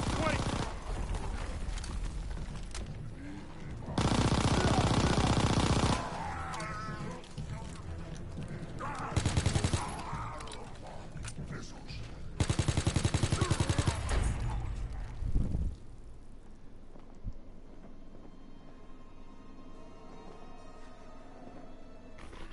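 Bursts of rapid gunfire from a gun in a World War 2 video game, three loud volleys standing out from a steady game backdrop with voices chatting between them.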